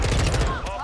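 Rapid gunfire from a Call of Duty: Modern Warfare 2 match, a dense burst of automatic shots lasting under a second, loud and close, with some speech-like sound mixed in.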